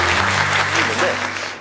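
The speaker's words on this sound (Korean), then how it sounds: "박수 한번 크게" An audience at a lecture on Korean War heroes breaks into applause, a dense wash of clapping under a voice that continues speaking over it.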